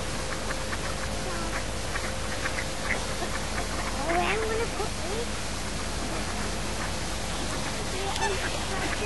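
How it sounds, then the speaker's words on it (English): Canada geese on a lake give scattered honks and calls, some clear and some faint, over a steady bed of water and ambient noise, with voices murmuring in the background. "There were lots of Canada geese there."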